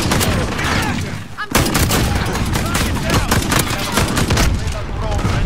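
JAK-12 automatic shotgun fire in a hardcore Call of Duty match: loud, rapid bursts of blasts nearly nonstop, with a brief lull partway through before the barrage resumes, and voices faintly mixed in.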